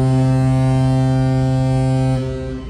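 A ship's horn blasts at Merak port terminal in one long, loud, steady drone that holds for about two seconds and then cuts off into fading harbour noise.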